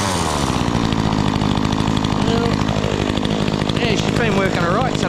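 A Makita chainsaw runs continuously at a loud, steady rev close by, its engine buzz filling the whole stretch, with faint voices partly buried beneath it.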